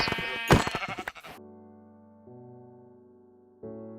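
A Minecraft sheep's bleat, loud and wavering, followed by sustained synthetic game tones that shift pitch twice.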